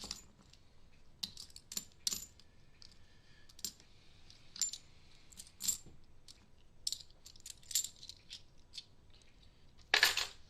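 Half dollar coins clink and click as they are handled and sorted while searching through bank boxes, with scattered short metallic taps, a louder jingle near the end, and no talking.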